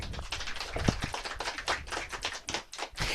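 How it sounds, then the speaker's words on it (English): Applause from an audience at an evening author event, dense scattered claps continuing steadily throughout without voices. "Keep that applause up!"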